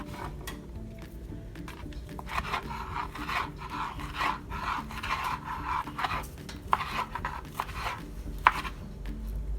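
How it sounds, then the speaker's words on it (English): Rough chopping of broccoli and deli ham on a cutting board: a steady run of close, scraping knife strokes and soft thuds, with a few sharper knocks near the end. "So we are just going to chop all this up roughly"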